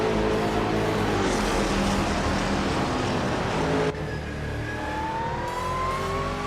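Engine roar of racing cars in a video game race, a steady loud drone with shifting pitched whine as cars run nose to tail, no talking.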